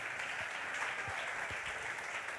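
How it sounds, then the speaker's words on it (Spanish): Church congregation applauding during a Spanish-language sermon, a dense, even patter of many hands clapping, fairly soft and distant, with no speech over it. "Dale un aplauso a Cristo."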